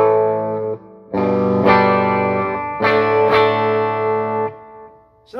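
A Legator Spectre electric guitar on its bridge pickup rings out through an amp in a few loud, sustained distorted chords, each cut off abruptly before the next, close and without any talking.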